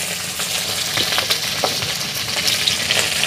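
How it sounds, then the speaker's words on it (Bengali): Onion, chopped chilli and capsicum sizzle steadily in hot oil in a pan, a dense continuous crackle with occasional sharper pops and stirring scrapes, close and fairly loud with no talk. "এখন এই সবজিগুলো আমি ভেজে নেব।"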